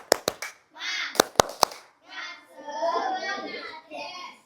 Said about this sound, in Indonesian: Mantap, tepuk semangat.